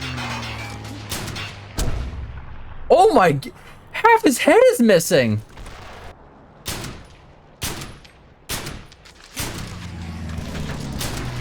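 Sharp bursts of gunfire and heavy booms from the World War II shooter Brothers in Arms: Hell's Highway come in separate loud volleys with short gaps between them. Someone talks over part of the firing.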